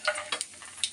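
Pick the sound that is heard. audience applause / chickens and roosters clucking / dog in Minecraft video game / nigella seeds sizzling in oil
nigella seeds sizzling in oil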